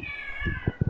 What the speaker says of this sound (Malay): Itu bunyi kucing.